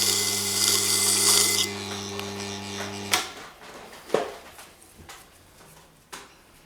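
A tanto knife edge being sharpened from the tip toward the choil on a powered grinder, a steady whining grind that cuts off after about three seconds, followed by a few sharp clicks and knocks in a quiet room.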